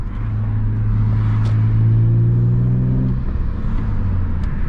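A BMW E36 M3 with a lighter flywheel drives onto a highway ramp, its engine droning loud and close with rising then easing tones against road rumble and wind noise, no talking.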